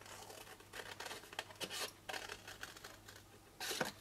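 Scissors snip and hack through cardboard for a fold-flat baby bib box, a quiet run of short crisp cuts and rasps with a louder tearing crunch near the end, no talk.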